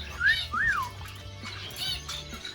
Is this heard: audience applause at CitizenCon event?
no